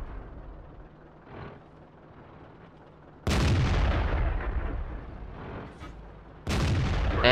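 Tank cannon fire in a tank video game featuring the Russian T-44 tier 8 medium tank: two loud, booming shots with long rumbling tails, the second arriving about three seconds after the first, over a low quiet battlefield hum.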